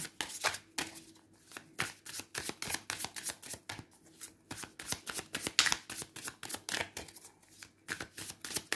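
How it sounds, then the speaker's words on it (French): Tarot cards being shuffled by hand, a steady series of quick riffling and slapping bursts up close with brief gaps between them. "je prends le temps de mélanger un peu les cartes"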